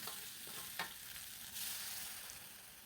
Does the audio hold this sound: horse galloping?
no